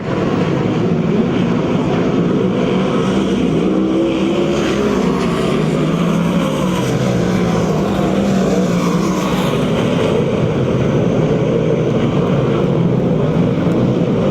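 USAC/CRA sprint cars racing on the dirt oval at Perris, California, a steady, loud engine roar that holds throughout with no breaks, the pack droning continuously.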